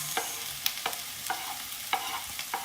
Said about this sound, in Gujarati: આમાં મેં ઓઇલ લીધું છે થોડું, એમાં ઓનિયન અને પેપર બે હું જોડે નાખી દઈશ